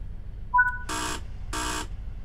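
A train cab buzzer in Train Sim World 3 on the Midland Main Line gives two loud, harsh bursts about half a second apart, preceded by a faint short electronic chirp.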